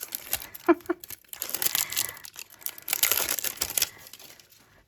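Crinkly plastic LOL Surprise toy packaging rustles and crackles up close as it is unzipped and pulled open, in dense bursts with brief pauses between.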